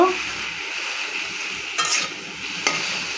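Onions frying with kharkol leaves in a pan, a steady close sizzle with a couple of brief stirring scrapes, no talk.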